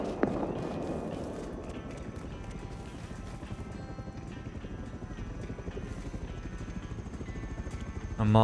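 A scrap helicopter in the game Rust: steady, rapid rotor thumping with a droning hum, holding a fairly even level throughout, with a sharp louder sound at the very end.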